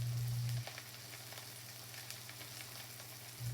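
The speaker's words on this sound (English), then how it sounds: "Now we'll just cook it until the onions soften up just a bit." Onions frying in a pan for sausage gravy, a soft continuous sizzle heard alone and fairly quiet, with a low hum at the start and end.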